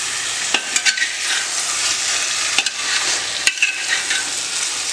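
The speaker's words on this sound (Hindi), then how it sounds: "बिल्कुल हल्के हाथ से इसे भी मिला देंगे।" A mixed mutton, chicken and fish curry is gently stirred in a pan, a steady sizzling hiss broken by occasional soft scrapes and clinks of the spoon, with no talking.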